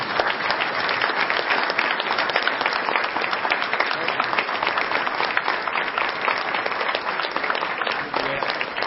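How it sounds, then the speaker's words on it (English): Dense, sustained applause from an evening audience at a school science event honoring students, continuous clapping at a steady level for the whole stretch. "Let's give these boys and girls a round of applause"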